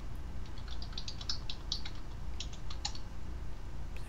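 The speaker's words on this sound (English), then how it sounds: "I can hear you typing." Quick, light clicks of typing on a computer keyboard come in uneven bursts, fairly close, over a steady low background rumble.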